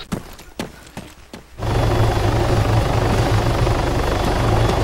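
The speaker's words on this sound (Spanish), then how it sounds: "Es el helicóptero del enemigo" An enemy helicopter in the video game Arma 3 roars in loudly and steadily after some brief thumps and rumbles, its rotor drone filling the rest of the clip with a continuous low beating hum.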